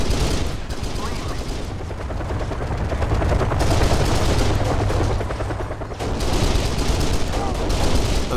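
Dense bursts of gunfire from a firefight in Kane & Lynch: Dead Men crackle loudly and almost continuously, with rapid overlapping shots and brief lulls, while a voice talks over the shooting.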